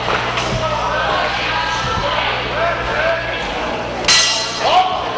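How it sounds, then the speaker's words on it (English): A boxing ring bell clangs sharply for round 2 of a professional debut bout over a noisy crowd, with a voice talking continuously underneath. "And there's the bell for round 2 between these two fighters."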